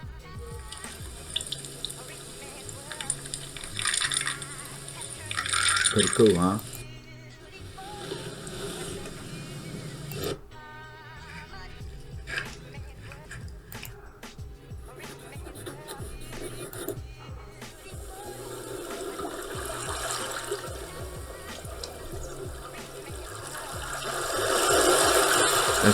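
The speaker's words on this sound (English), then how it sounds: "soft ocean sounds effects" Soft ocean ambience with a steady wash of waves and water, continuous at moderate level and swelling louder toward the end, briefly heard under a voice speaking.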